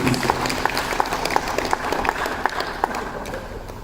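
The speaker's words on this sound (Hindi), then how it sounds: "जोरदार तालियां प्रिंसिपल मैम मिसेस सरूर खजूर के लिए।" A school audience at a Diwali celebration claps loudly for the principal, a thick, even wash of many hands with a few sharper individual claps standing out, sustained without a break.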